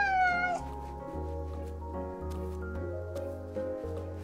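A cat meows in the video game Calico, a short rising mew at the start over steady, cheerful background music.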